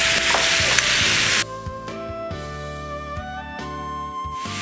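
Chicken pieces coated in chili sauce and soy sauce stirred and fried in a pan: a loud, steady sizzle at first, then quieter frying with scattered scraping and clinking of a spatula against the pan.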